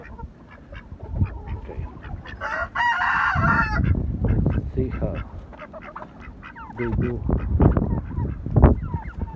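Ducks, geese and chickens kept outdoors in extreme winter cold honk, quack and cluck in close, overlapping bursts, and a person speaks briefly among the calls.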